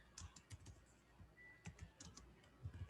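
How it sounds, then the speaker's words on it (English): Someone types slowly with one hand on a computer keyboard, a handful of close, irregular key clicks with pauses between them in a quiet room. "I'm typing a little slow because I'm only using one hand"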